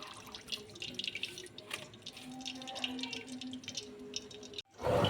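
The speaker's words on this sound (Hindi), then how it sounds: "और एक बाउल में ठंडा पानी ले लेंगे हम।" Cold water being poured and splashing into a bowl in a home kitchen while chicken wings are prepared, a steady close trickle and splash that cuts off abruptly near the end before a louder burst.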